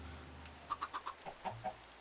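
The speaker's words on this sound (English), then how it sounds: "These chickens are very well behaved." Blocky Minecraft chickens clucking in a game world: a quick run of about eight short, clipped clucks in an uneven rhythm, fairly close and moderately loud, with no talk over them.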